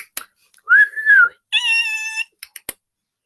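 Children imitate dolphins with high, wavering whistles and squeaky calls: one long bending whistle, then a bright layered squeal, and a couple of short sharp clicks at the end.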